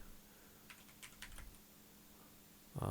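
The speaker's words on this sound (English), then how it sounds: "I'm going to do on the keyboard left shift." A few quiet clicks of a single computer keyboard key, the left shift, pressed in a near-silent room before a louder thump at the end.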